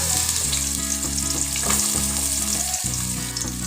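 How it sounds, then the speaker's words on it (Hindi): Onions frying in hot oil in a cooking pot, a steady close sizzle that runs continuously throughout, with a faint stirring clatter, and no voices. "तो हम इसमें प्याज डाल देंगे।"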